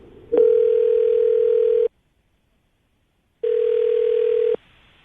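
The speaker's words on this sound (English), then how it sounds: "We're going to get her on the phone right now and see if we can find out why she won't call you back" Steady telephone dial tone before a radio show's prank call, heard in two loud bursts with a silent gap between them; no voices.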